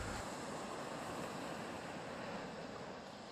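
Ocean surf at Mākaha, Hawaii washes in a continuous broad roar of breaking waves, mixed with wind buffeting the microphone, fairly faint and steady with no voices.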